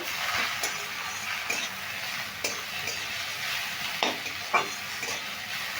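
Potatoes and onions sizzle steadily in a hot pan for a Bengali aloo posto dish, with occasional scrapes and clicks of stirring, and no talk.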